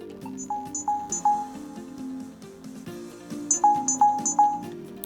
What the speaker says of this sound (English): So I'll let you hear the ringtone if you're not sure what ring number 1 sounds like.